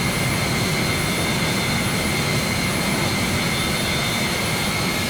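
Steady roar of an A-10A Thunderbolt II jet engine in Microsoft Flight Simulator, a loud continuous broadband whine with high tonal hums, unbroken and close.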